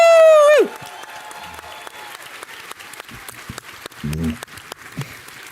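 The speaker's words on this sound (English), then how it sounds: "So please give Renee a round of applause." Audience applause and cheering at a D23 panel for Kingdom Hearts, starting after a loud sustained tone and continuing as a steady crowd clatter under occasional voices, with brief louder bursts later.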